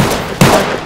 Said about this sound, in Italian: Sparo alla gente che ti sta portando via.